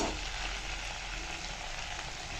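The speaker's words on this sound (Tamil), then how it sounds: "நம்ம கோவக்காய் கருமது நல்லா வதங்கிடுது." Ivy gourd stir-fry sizzles steadily in a pan, a continuous close, bright frying hiss with no voices.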